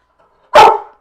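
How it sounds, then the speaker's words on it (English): One sharp, loud dog bark rings out close by indoors, a brief single yip that stands alone against near silence. "Now Butsy wants to bark."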